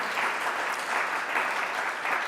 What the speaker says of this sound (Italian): la accogliamo con un applauso